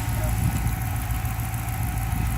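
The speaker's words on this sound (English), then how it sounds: "Okay, so anyway, this is the engine. It idles just perfectly." Dodge Challenger engine idling smoothly, a steady low rumble held at an even level throughout with no revving.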